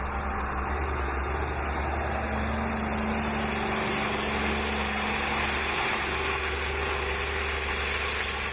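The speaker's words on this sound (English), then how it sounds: "The two Kenworth trucks make light work of the climb out of the tunnel up onto the highway." Kenworth trucks climbing out of a tunnel onto the highway, a constant heavy diesel drone with a deep low rumble that holds steady throughout, no voices.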